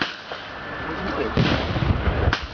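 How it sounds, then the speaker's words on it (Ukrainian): Booming cannon fire at a battle reenactment in Lutsk, Ukraine, several sharp reports over rumbling background noise and distant shouting. "Українська гармата веде обстріл позицій української повстанської армії."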